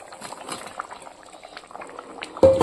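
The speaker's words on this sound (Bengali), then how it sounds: "ঝোল ফুটে উঠেছে" Curry gravy bubbling at a boil, a dense patter of small pops and gurgles close by, ending in a sudden louder splash or clatter near the end.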